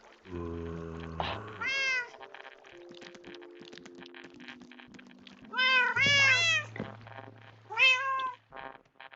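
A cat in the Minecraft video game meows several times in short rising cries, clear and close, spaced between steady tones of game music.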